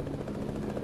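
Helicopter in a Portuguese-language online shooter match, a steady low rotor drone with a buzzing hum, held at a constant level throughout, with no speech over it.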